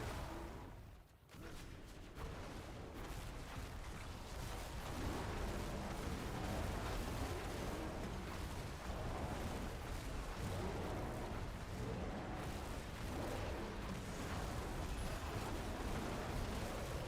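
Dense, continuous rumbling blasts and crackling bursts from explosions in the action role-playing game Diablo 4, loud and sustained throughout with no pause.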